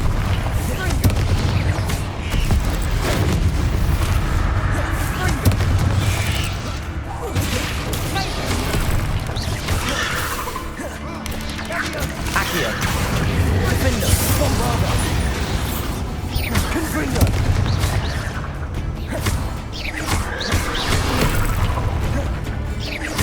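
Confringo and Bombarda spell explosions in Hogwarts Legacy, loud repeated booms and crashes rolling one after another over a dense battle din, with a voice calling out spells throughout.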